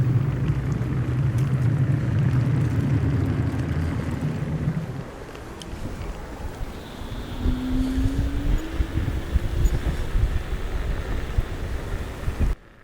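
Strong storm wind in Latvia roars and buffets the microphone without letup, with a low rumble early on and gusts surging throughout.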